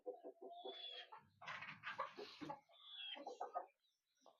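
Native chickens cluck in rapid, close bursts, a quick run of short notes breaking into a louder, rougher squawk before more chattering clucks.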